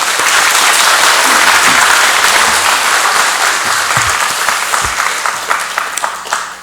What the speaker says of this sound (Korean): 이런 마음으로 우리 박수로 선교사님 모십니다